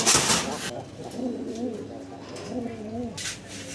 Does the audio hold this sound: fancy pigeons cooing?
yes